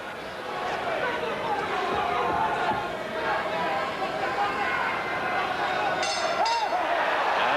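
Dense crowd noise fills a boxing arena at Caesars Palace during a 1991 fight, a steady roar of murmuring and shouting spectators with brief clinks, continuous and fairly loud throughout.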